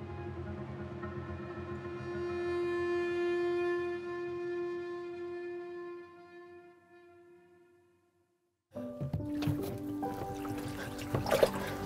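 Water drains out of a kayak on the rocky Swedish west coast: a sustained tonal ringing fades to near silence, then a burst of spattering and trickling water follows close by.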